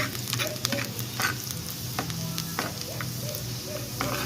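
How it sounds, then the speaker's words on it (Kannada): Garlic frying in hot oil in a clay pan for a mutton dish, an up-close crackling sizzle with repeated stirring scrapes and small pops throughout. "ಬೆಳ್ಳುಳ್ಳಿ ಸ್ವಲ್ಪ ಚೆನ್ನಾಗಿ ಫ್ರೈ ಆಗಬೇಕು"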